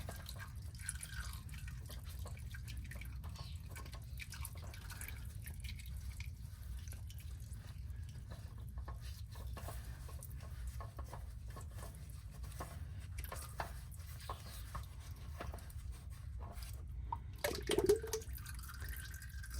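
Motor oil dripping from the drain of a Ford E350 oil pan into a catch container, faint scattered drips and patters over a low background hum, with a slightly louder splash near the end.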